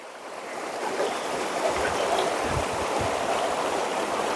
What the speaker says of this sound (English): Wash them off in the water.